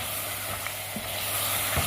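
Handi masala chicken with cream frying steadily in a pot, a continuous dense sizzle with a few soft stirring scrapes, no voices.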